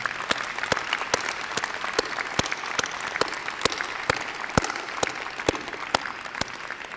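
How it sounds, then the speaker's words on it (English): A crowd applauds at a senior breakfast honoring a staff member's 48 years of service, steady dense clapping with a few sharper individual claps standing out, moderately loud and continuous throughout. "Let's give her a round of applause."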